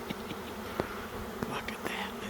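A honey bee swarm drones around hive boxes in a dense, steady buzz, with individual bees zipping close past now and then. The sound is faint and has no voices.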